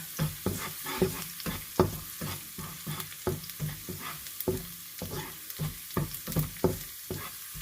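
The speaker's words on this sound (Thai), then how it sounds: "พอน้ำมันร้อนแล้วก็ใส่กระเทียมลงไปผัดให้หอมค่ะ" Garlic sizzles in hot oil in a wok while a utensil scrapes and stirs in a quick, regular rhythm of sharp clacks.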